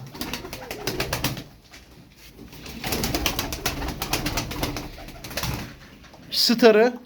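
Male front-crested pigeons coo in repeated soft bursts, close by, with a louder call near the end.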